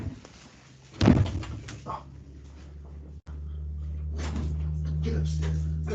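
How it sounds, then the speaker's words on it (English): A dog scratches and paws against a door in bursts, with a soft thump early on and a low steady hum underneath. "I got a dog that's clawing at my door"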